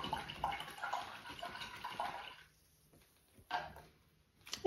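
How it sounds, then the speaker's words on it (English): A paintbrush is swished and rinsed in a water container during acrylic painting, a steady close sloshing for a couple of seconds, then a pause before one more short splash. "Okay, I'm gonna wash my brush off now."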